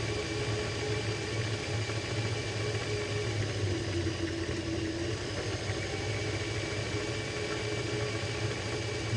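A vehicle engine running steadily in fourth gear, a continuous mid-low drone with a faint whine and slight vibration, close and alone without talk.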